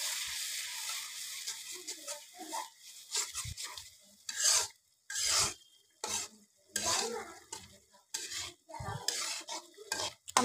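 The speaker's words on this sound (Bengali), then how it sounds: "একটু নেড়ে দিচ্ছি।" Spoon scraping and stirring turmeric, chili and cumin powder in hot oil for a North Bengal egg curry, close up, in uneven bursts of strokes over a soft sizzle.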